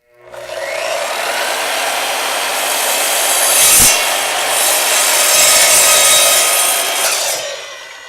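An Evolution miter saw slices through a piece of poplar, a loud, steady whine of blade biting wood that holds for about seven seconds, with a brief thump near the middle, then tails off as the cut finishes.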